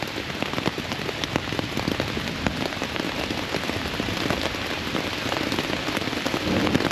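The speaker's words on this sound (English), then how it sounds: "The rain just hit hard." Heavy rain pours down hard and steadily, a dense, loud hiss of drops drumming on surfaces throughout, constant with no pauses, during an Appalachian Trail thunderstorm.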